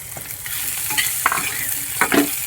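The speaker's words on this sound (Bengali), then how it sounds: "পেঁয়াজটা ভাজা হচ্ছে" Chopped medium onions and garlic fry together in a wok, with repeated scraping stir strokes over a steady, close sizzle.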